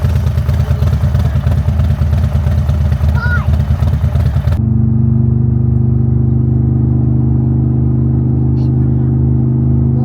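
A motorcycle rides along a road with a loud engine and wind roar for about four and a half seconds, then the sound cuts abruptly to a steady, low, even hum.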